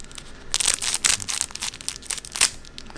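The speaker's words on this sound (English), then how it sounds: "literally what I do is you just cut all the tops off" Scissors snipping the tops off four sealed Strixhaven trading card booster packs, a series of close crinkly foil cuts and rustles coming in quick irregular bursts.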